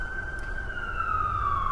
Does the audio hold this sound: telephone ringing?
no